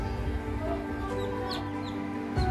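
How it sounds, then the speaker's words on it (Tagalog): Newly hatched chicks peep in an incubator, a steady wash of small high chirps and clucks running throughout over a constant mechanical hum, fairly close, with no talk. "may 6 na pong sisiw"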